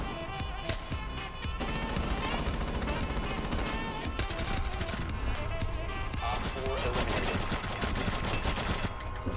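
Rapid bursts of automatic gunfire from a Rainbow Six Siege match, loud and dense across the whole stretch, with several separate volleys and voices talking over the shooting.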